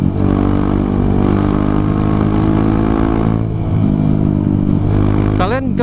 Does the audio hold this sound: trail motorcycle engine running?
yes